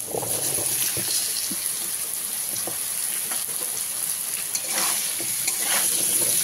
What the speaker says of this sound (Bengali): সবজিটা দিয়ে ভালোভাবে ভেজে নেব।